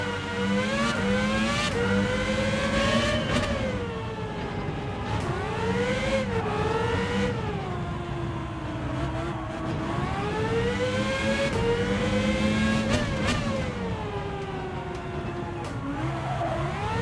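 A swapped-in race car engine in Gran Turismo 7 revs loudly and continuously, its pitch sweeping up and down through repeated accelerations and gear changes, with occasional tire squeal and no talk.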